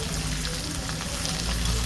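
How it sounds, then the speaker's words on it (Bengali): Running water gushes steadily and closely as shrimp are rinsed, a constant broadband wash with no pauses or voices. "ভালো করে চিংড়ি মাছগুলোকে ধুয়ে দিয়ে নিচ্ছি"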